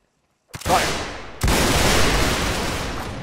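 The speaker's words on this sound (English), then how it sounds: "Can we let off a victory volley?" A volley of rifle fire shot into the sky in a Civil War–era video game: two loud, ragged bursts of overlapping gunshots about a second apart, the second and larger one rolling out into a long echoing tail.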